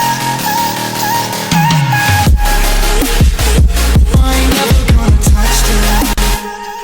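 The second drop of an electronic music track plays loudly, first a hovering pad and a descending sweep, then punchy bass hits and stabs with the percussion and chords cut out before the pad returns.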